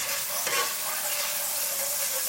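Garlic and ginger paste sizzles steadily in warm oil in a pan while cooking chicken vindaloo, a dense continuous hiss with a brief stir near the start and no voices.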